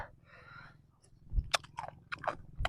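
Close crunching and biting on hard rice-field crab shell in papaya salad made with wide noodles, a few sharp cracks and wet chewing sounds in an irregular rhythm, with no talking.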